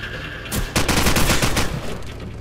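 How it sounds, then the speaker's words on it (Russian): Dense automatic gunfire from Call of Duty 4: Modern Warfare rattles in rapid bursts, loud and near, starting after a brief lull and running continuously over a low engine-like drone. "меня выстрелили несколько раз"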